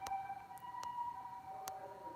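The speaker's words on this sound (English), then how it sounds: "That's ambulance, by the way." Ambulance siren in Hong Kong streets, a faint distant wail holding steady tones throughout, with a few sharp clicks over it and no talking.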